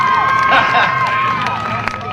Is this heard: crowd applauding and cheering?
yes